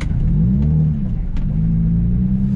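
Nissan 350Z engine revving hard while drifting, a loud, steady mid-pitched roar with rising and falling harmonics and brief surges, close and continuous with no talk.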